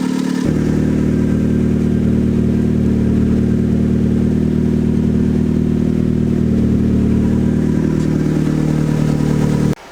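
Turbocharged Mazda Miata engine settling into a steady, rough idle after a light throttle blip, a continuous low rumble with slight clatter running close and loud throughout before cutting off at the end.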